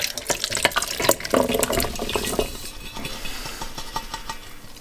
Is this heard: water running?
yes